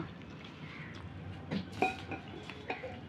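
Patishapta pitha batter being mixed with water in a bowl, soft stirring and a few light clinks of a utensil against the bowl, quiet and close.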